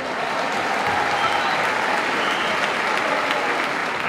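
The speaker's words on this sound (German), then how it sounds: "Ein Applaus für die DEG" Dense, steady crowd applause at a DEG ice hockey team season-end celebration, a loud, even wash of clapping from a large crowd with no talk over it.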